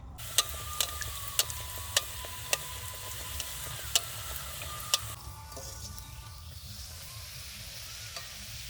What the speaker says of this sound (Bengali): কড়াই গরম হয়ে গেছে তেল দিয়ে দিচ্ছি কচুরিগুলো ভেজে নেব